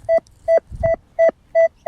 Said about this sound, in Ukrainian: нанюхав я прибором непоганий сигнал, дам вам послухати, наушники відключив